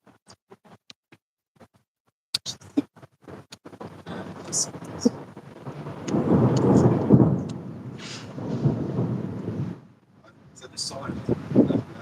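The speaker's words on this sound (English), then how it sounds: "Did y'all hear that? Thunder." Thunder rolls in a storm, starting with scattered cracks and building into a long, loud rumble that swells and fades, then returns near the end. Faint rain and wind noise sit underneath, with brief voices.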